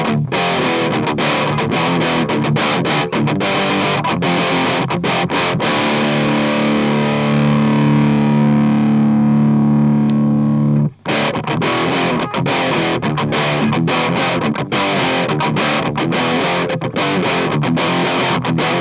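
Overdriven electric guitar through an Ibanez TS9 or Behringer TO800 pedal with the tone knob fully up, loud and continuous: choppy distorted riffing, a long sustained chord ringing out, a brief break, then more driven strumming.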